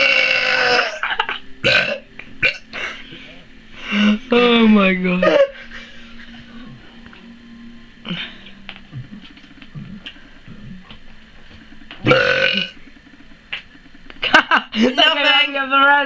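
Several huge, loud burps, some drawn out and groaning, erupt between bursts of excited talk and laughter from people nearby.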